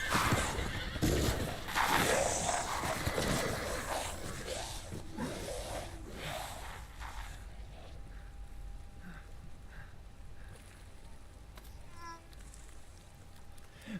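Horses ridden by lycans in a video game neigh and whinny loudly at the start, with hoof clatter and game sounds that fade to a quieter, thinner background.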